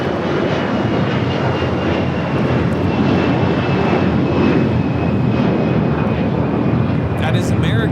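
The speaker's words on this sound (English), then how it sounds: "1024 taking off to Orlando on the A321" An American Airlines Airbus A321 jet takes off at Los Angeles airport, a loud, sustained engine roar filling the whole stretch at close range, with a voice talking over it.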